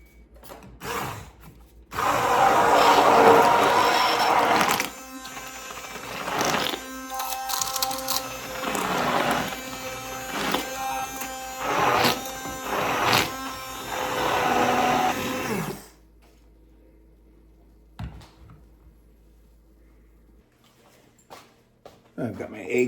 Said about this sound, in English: Get my hand mixer.